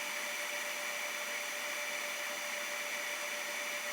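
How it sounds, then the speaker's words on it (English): X-Tool F1 laser engraver marking a steel knife blade, giving off a steady whirring hiss with a constant tone, close and unchanging, with no voice. "I'm using my X-Tool F1 to engrave my logo, the type of steel, as well as a custom engraving on the other side of the blade."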